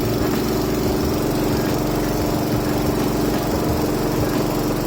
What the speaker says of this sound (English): I sat on it for a few minutes just to let the engine run for a little bit